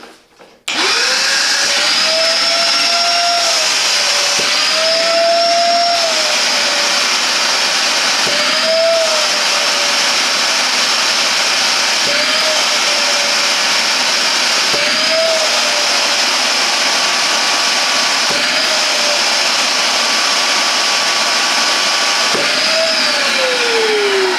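A Parkside PWD 25 C4 wet and dry vacuum runs loud and steady with its inlet covered, a high whining roar that dips and recovers in repeated surges as the filter-cleaning cycle pulses.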